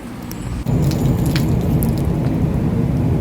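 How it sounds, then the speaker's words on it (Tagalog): Heavy rain pours down steadily and loudly in Caticlan, a dense roar that swells up after a short quieter start, with no voices. "Ang lakas ng ulan."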